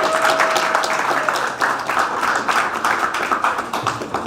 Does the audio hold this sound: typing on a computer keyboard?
no